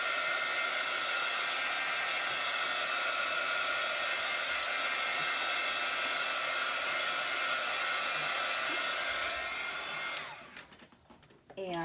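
A small heat gun blows a steady, close, whooshing stream of hot air to dry chalk paste, continuous for about ten seconds before it is switched off and fades away.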